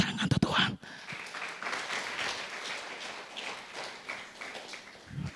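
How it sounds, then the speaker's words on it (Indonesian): A church congregation at a Sunday service breaks into sustained applause after a brief loud bump, a dense, even patter of many hands clapping that carries on to the end. "Tepuk tangan untuk Tuhan."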